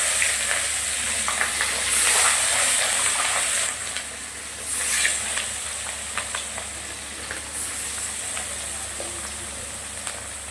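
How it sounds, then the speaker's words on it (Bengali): Chara pona fish pieces fry crisp in hot oil in a kadai, a continuous close sizzle with occasional louder crackling bursts and no talking. "মাছগুলো কিন্তু কড়া করে ভাজবো।"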